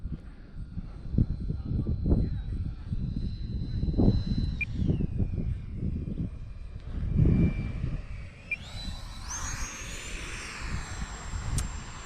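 An FMS 80mm Rafale RC model jet in flight, its electric ducted-fan whine rising and falling as it passes, steady and moderately loud over outdoor background, with a faint voice briefly under it.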